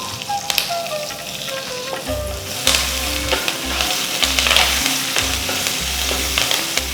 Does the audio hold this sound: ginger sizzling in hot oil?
yes